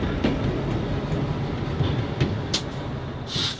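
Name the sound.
Tennessee Valley Railroad Museum train on steep grade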